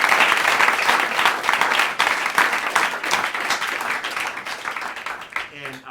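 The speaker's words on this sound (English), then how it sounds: "Let's give him a round of applause." An audience at a percussion department orientation claps for a presenter, producing a loud, full round of applause with sharp individual claps throughout that thins out and stops near the end.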